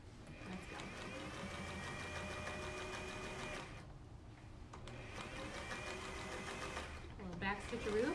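A sewing machine back stitches a homemade protective face mask, running in a steady rapid whir with a short pause partway through. Voices talk faintly under the motor.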